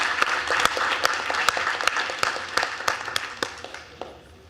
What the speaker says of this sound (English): Let's give him a round of applause and welcome him to MSCS.